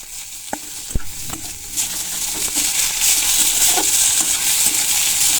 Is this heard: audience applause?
no